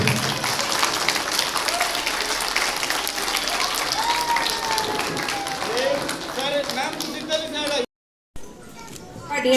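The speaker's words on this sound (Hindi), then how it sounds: "लगातार तालियां" Continuous applause from an audience at a Mother's Day talent hunt event held by an academy, steady dense clapping filling the room for several seconds, with a brief gap near the end before it resumes.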